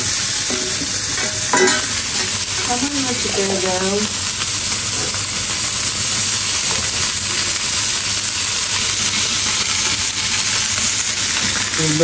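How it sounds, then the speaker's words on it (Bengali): Loud, continuous sizzling of fish frying in hot oil, with occasional stirring scrapes and brief clinks near the start. "মাছ ভাজার দৃশ্য"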